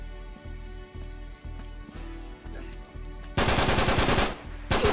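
Gunfire from an M9 in the video game Uncharted 3, a rhythm of regular thudding shots followed by a loud, rapid automatic burst that breaks off briefly and resumes.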